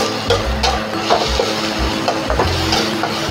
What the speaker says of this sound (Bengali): এবার মশলাটা আমি কষাচ্ছি।